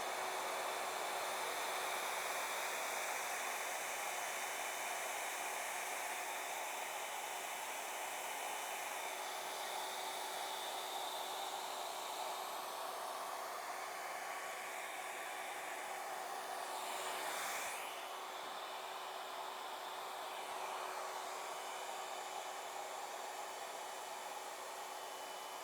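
A hair dryer blows steadily for about 25 seconds, pushing poured paint across a canvas. Its broadband hiss and faint whine hold nearly constant, with a brief shift in tone midway, and no voices.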